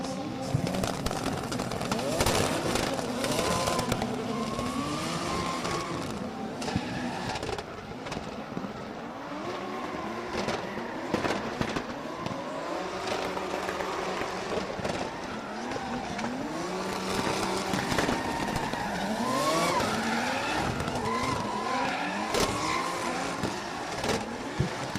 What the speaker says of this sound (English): stuck to the back of that E46 BMW as we hear the bangs of both cars coming around the last corner